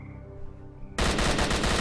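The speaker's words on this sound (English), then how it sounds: "Jesus, gunfire!" Loud, dense automatic gunfire bursts out suddenly in the video game Stalker: Call of Pripyat, a sustained rattling barrage following a quieter stretch of low humming ambience.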